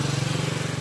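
A steady, buzzing motor whir with a rapid pulsing rhythm, close and loud, like a power drill running continuously.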